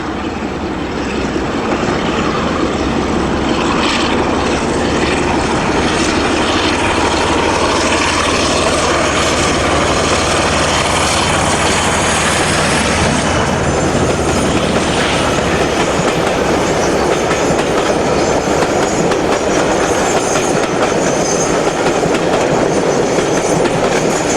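British Rail Class 47 diesel locomotive 47579 at Narrowways, Bristol, hauling a dozen Southern Emu coaches, passes loud and close with a sustained engine roar, steady wheel clatter and rumbling coaches throughout.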